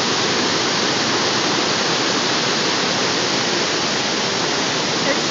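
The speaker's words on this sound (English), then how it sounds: "there's hardly any water going over the falls" A waterfall with only a thin flow of water going over the falls, heard as a steady, loud, unbroken rushing hiss with no other sounds.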